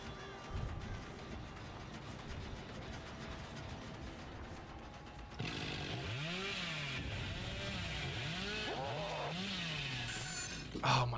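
A chainsaw in a video game starts revving partway through, its loud engine whine rising and falling in pitch in repeated bursts over steady game background noise.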